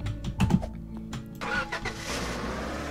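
A truck engine starts in Roblox Lumber Tycoon 2: a short cranking burst, then the motor catches and settles into a steady mid-pitched idle, close and moderately loud.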